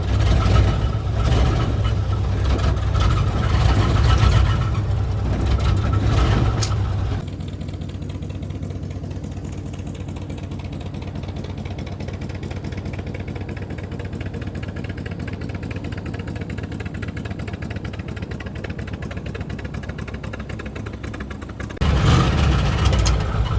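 A 1958 Plymouth Fury engine that has sat for a while runs rough while warming up, missing on some cylinders; a loud, close uneven rumble gives way to a steadier idle before surging loud again near the end.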